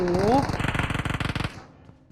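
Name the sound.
gunfire in a video game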